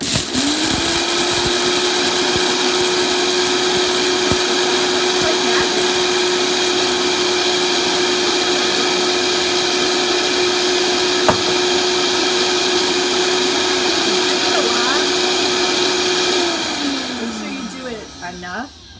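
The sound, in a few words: blender grinding buckwheat groats into flour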